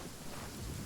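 Steady, broad rain hiss with a low rumbling undertone in Genshin Impact, continuous and fairly loud throughout a very short moment.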